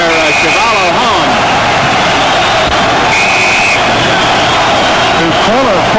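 A large crowd at the 15-round Ernie Terrell vs George Chuvalo heavyweight boxing fight cheers and roars steadily throughout, with occasional whistles and shouts rising above the dense arena noise.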